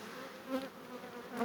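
Honeybees buzz softly around a hive frame in a 10-frame hive, a low steady hum with two brief swells, close and quiet, with no voices.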